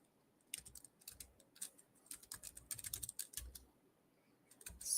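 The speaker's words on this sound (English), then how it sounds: "I'm so excited that my keyboard is working." Bursts of clicky typing on a computer keyboard at close range, quick uneven keystrokes in short runs with pauses between, with no talking.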